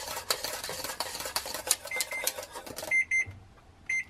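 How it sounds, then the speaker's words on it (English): Kitchen timer going off while coconut cardamom ice cream base cooks on a stovetop, a few short bright beeps near the end after clattering kitchen noise. "Okay, that was my timer."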